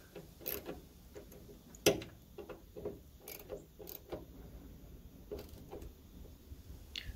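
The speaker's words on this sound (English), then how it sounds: "we can now bolt down the bonnet hinge bolt" Ratchet clicks tightening the bonnet hinge bolt under the bonnet of a Ford BA Falcon, a series of short mechanical clicks and ratcheting bursts, close and fairly quiet, with no talking.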